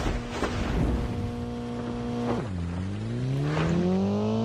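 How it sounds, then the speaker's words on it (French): A car in the Call of Duty Mobile video game drives steadily, its engine tone holding and then dropping as it shifts before climbing again, loud and close, with no talk over it. "Il prend la voiture."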